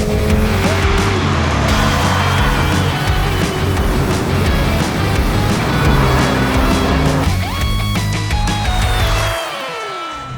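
A Mercedes A-Class and a Porsche 911 drag race, engines roaring loud and close with rising and falling revs through gear changes and a whining tone, then the roar dropping away near the end.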